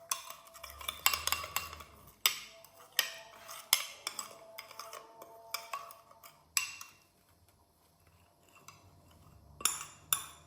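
Spoon stirring a salad with dried garlic and coriander seeds in a bowl, irregular clinks and scrapes of utensil against dish, close and fairly quiet, with pauses between bursts.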